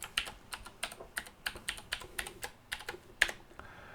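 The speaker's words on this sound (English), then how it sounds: "Now you can either type in or paste in the command Pi-hole -a -p." A command is typed on a computer keyboard in a quick, fairly even run of about a dozen crisp key clicks, close and quiet, ending with one sharper keystroke and no talking.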